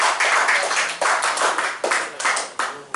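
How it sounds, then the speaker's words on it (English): A comedy club crowd at an underground stand-up show claps in a few short uneven bursts, close and fairly loud, each flurry fading quickly before the next starts. "Give that a round of applause."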